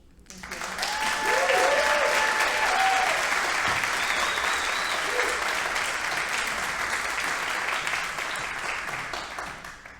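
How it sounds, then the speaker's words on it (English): An audience at a celebration event breaks into sustained applause, a full, even roar of many hands swelling quickly and holding steady before tapering off, with a few voices and cheers faintly underneath. "let's give Christine another big round of applause"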